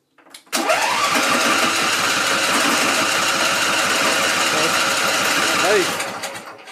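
Small engine starting with the choke up and throttle down: a short pull, then it catches and runs at a loud, steady buzzing idle, tailing off slightly at the end.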